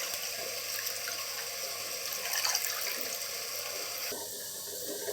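Water poured into a cooked-down masala of yogurt, mint and coriander while making chicken biryani, a steady, fairly loud rushing pour that runs for several seconds before its tone shifts near the end, with no talk.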